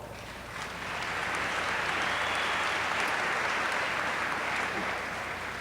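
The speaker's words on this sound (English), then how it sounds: "give yourself a round of applause" An audience at an award ceremony breaks into steady applause, swelling in after a brief pause and holding at a full, even level for several seconds before easing slightly.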